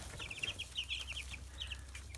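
Chickens in a coop give short, soft repeated clucks in a few small bursts over a steady low background hum.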